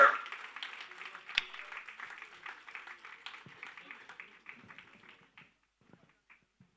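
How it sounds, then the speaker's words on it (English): Audience at a national hackathon grand final claps for a competing team, a crisp burst of many hands that fades over several seconds into scattered individual claps. "Keep clapping for your friends"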